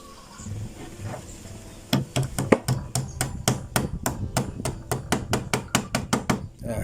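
Sharp hammer taps begin after a quiet moment, then a steady run of about two dozen quick, evenly spaced metallic knocks, close and loud, as a part of a New West 488 Plus chainsaw's recoil starter is tapped.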